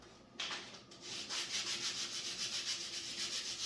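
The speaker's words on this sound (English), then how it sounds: "I'm going to sand that down a little bit more." A kit knife is sanded by hand with steady back-and-forth rubbing strokes, a close, continuous gritty hiss pulsing in a regular rhythm.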